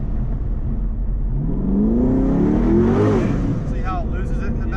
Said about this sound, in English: That's why people like turbo cars, because they sound like that.